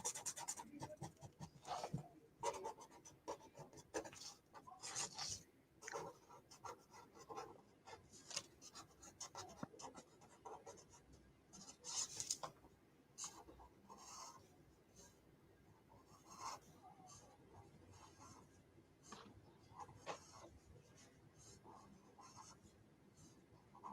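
Pencil drawing on paper during an art club session, steady scratchy strokes and rubbing in close irregular bursts over about twenty-four seconds, with no talk.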